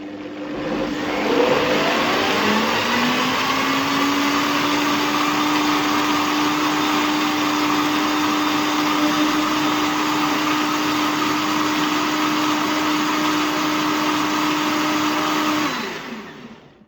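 An Optimum 9200A blender runs on fast setting, blending a mango smoothie with a loud, steady whir that stays even for about fifteen seconds before winding down.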